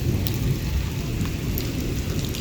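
Steady rain pours down on a village at night, a dense, continuous hiss with low rumbling beneath, close and even throughout with no voices.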